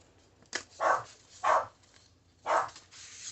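A dog barks indoors three times in short, fairly close, separate bursts with pauses between them, and no talk over the barks.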